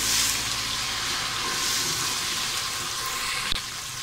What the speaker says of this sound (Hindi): अब इसमें हम डालेंगे अदरक लहसुन का पेस्ट 2 टेबलस्पून। इसको भी अच्छा से भुनेंगे।